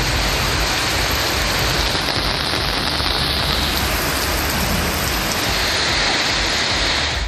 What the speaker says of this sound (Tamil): செந்துறை பகுதியில் 2 மணி நேரம் பெய்த மழையால் சாலையில் மழைநீர் பெருக்கெடுத்து ஓடியது